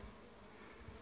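A small swarm of bees clustered in a rose bush in a front yard, giving a steady, dense buzzing drone close by with no talking.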